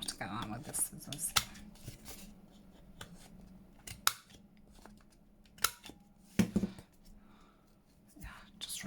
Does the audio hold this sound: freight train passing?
no